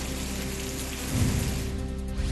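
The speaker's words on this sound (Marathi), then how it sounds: "छत्रपती संभाजीनगरच्या कन्नडमध्ये मान्सून पूर्व पावसाची जोरदार हजेरी" Heavy pre-monsoon rain falls in Kannad, Chhatrapati Sambhajinagar, a dense, continuous hiss that thickens slightly partway through, loud and steady with no voices.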